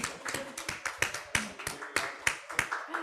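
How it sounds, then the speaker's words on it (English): Audience applause after a public discussion at an exhibition, heard as a few distinct, fairly close hand claps in an uneven rhythm rather than a dense ovation, with slight voice activity mixed in. "round of applause"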